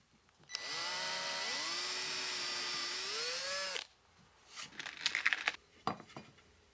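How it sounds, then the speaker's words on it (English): A power drill bores pilot holes into a shelf board with a loud, steady whine for about three seconds that shifts slightly in pitch. It stops abruptly and is followed by brief clattering handling noises. "pre-drill your holes exactly in the center"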